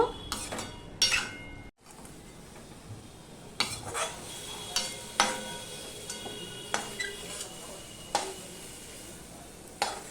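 Cooked vegetables are lifted out of a cooking pan with a utensil, giving repeated sharp scraping clinks and taps against the metal over a low background sizzle, close and steady with no speech.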